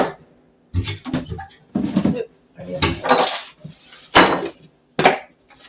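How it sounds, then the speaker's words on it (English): Several sharp clattering knocks of a utensil against a bowl while stirring yeast for white bread dough, in irregular bursts with short pauses between them, close and fairly loud. "I will stir the yeast into there."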